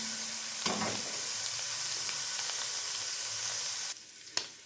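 Garlic sautés in a pan with a steady, close sizzle, broken by a couple of sharp clinks and scrapes of stirring, then the frying hiss drops off near the end; no talk.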